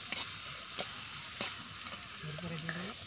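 Chopped tomatoes and beetroot sizzle in a hot pan for village-style chicken chowmein, with a soft continuous fry and a few sharp clinks of a spoon stirring against the pan. No one speaks.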